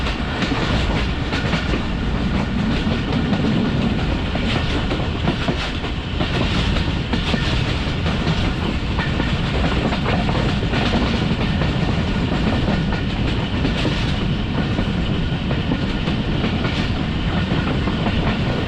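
Onboard the Tezgam Express passing Kala Shah Kaku railway station without stopping, with a loud, steady rumble and continuous clickety-clack of wheels on rails throughout, no voices.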